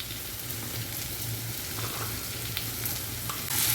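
Chopped tomato and onion stir-fry in a pan with a continuous close sizzle, broken by soft scraping as a spatula turns them over.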